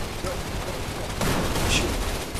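Sniper rifle fire in the VR shooter Gun Raiders, a sharp shot bursting out mid-way over a constant noisy game background, with a brief trailing crack afterward.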